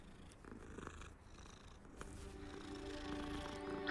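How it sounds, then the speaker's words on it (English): A cat in the video game Hogwarts Legacy purrs quietly and steadily, the soft rumbling growing slightly louder over a few seconds amid faint game ambience. "there's this cat right here"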